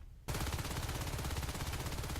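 Sustained automatic gunfire from Natural Selection 2, a rifleman emptying his magazine on a Drifter in a competitive match, a dense continuous rattle that starts abruptly after a brief quiet moment and stays loud throughout.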